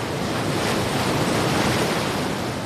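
Deep, raging floodwater rushing hard enough to swamp a Suburban and travel trailer, a loud, steady roaring wash with no voices.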